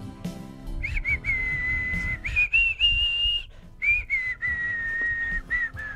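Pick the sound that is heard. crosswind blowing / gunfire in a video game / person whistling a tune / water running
person whistling a tune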